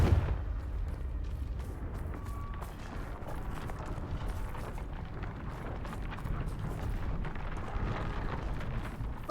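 Hogwarts video game Confringo spell blasts land in a dense, continuous rumbling roar of fiery explosions with heavy low-end booms, loud and close throughout with no pause.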